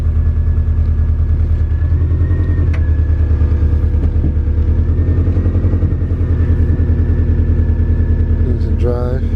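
A car engine runs steadily throughout as it is shifted into reverse, with a loud, continuous low hum and a faint higher whine near the end, while someone talks over it.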